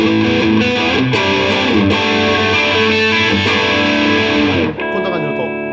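A Les Paul Standard electric guitar played with its distortion turned fully up rings out in thick, sustained, saturated chords with sharp strums, then drops to a quieter ringing tail near the end.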